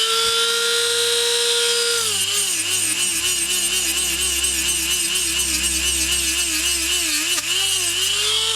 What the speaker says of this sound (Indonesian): Potong pangkal baut yang merupakan pembatas agar baut tidak terlepas dari terminal.